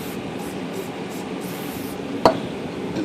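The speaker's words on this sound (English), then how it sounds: "I think I'm just going to spray them with" Chemical cleaner sprayed onto the keyboard levers and comb of an Olivetti Lettera 32 typewriter: a steady, close hiss with one sharp click near the end, and no voices.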